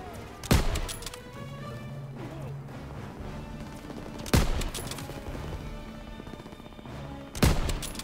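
Three loud, sharp gunshots from a World War II weapon in Call of Duty WWII, spaced a few seconds apart over a continuous rumbling battlefield din with faint distant crackle.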